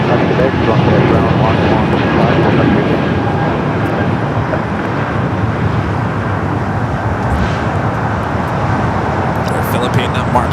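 Aircraft engines roar steadily at Los Angeles LAX airport, a loud, continuous broadband drone that holds through the whole stretch, with faint radio-like voices mixed beneath.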